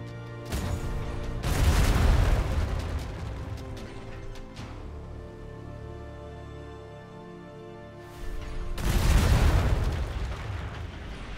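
Ship cannons fire in the video game Atlas, two heavy booming volleys several seconds apart, each a loud rolling blast that fades over a quieter background with no talk.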